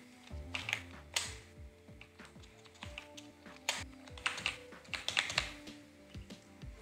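Rapid keystrokes on a computer keyboard while a project name is entered in a software setup wizard, a steady run of close, quiet clicks with uneven rhythm and no talk.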